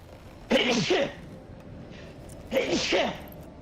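Two sneezes in quick succession about two seconds apart, each a sharp burst with a short double-peaked shape, fairly close and loud over quiet room noise.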